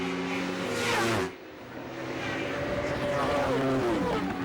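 British Superbike motorcycles race at Cadwell Park in 2007, their engines droning and shifting pitch as bikes pass close by, one roaring past early before a brief dip, over steady crowd-free track ambience with commentary underneath.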